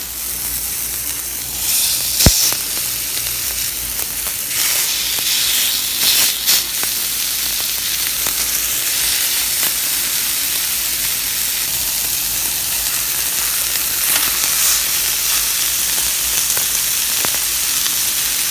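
Salisbury steak patties sear in a hot pan for keto cooking, a steady close sizzle and hiss running throughout, with a few sharp pops and spatters rising above the frying.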